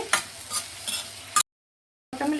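Chopped onions and large pieces of tomato are stirred while frying in a pan, with a steady sizzle and scraping stirs that stop briefly and then resume.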